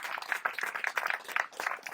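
Audience applause at an evening festival gathering, a steady patter of many hands clapping at moderate distance, with scattered louder claps standing out through the two seconds.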